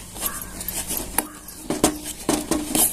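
Curd (yogurt) is whisked in a bowl for amrakhand, giving close, irregular clinks and scrapes of the utensil against the bowl, with no voices.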